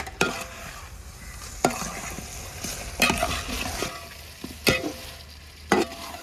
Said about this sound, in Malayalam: മസാലയൊക്കെ ഒന്ന് മൊത്തത്തിലൊന്ന് പിടിക്കാൻ വേണ്ടി വൃത്തിയായിട്ടൊന്ന് ഇളക്കി കൊടുക്കാം